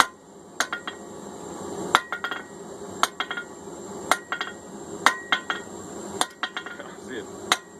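A hammer strikes hot 4140 steel while a drift is forged, giving sharp ringing metallic blows at an uneven working pace, loud and close, some in quick double hits, with clinks between strikes.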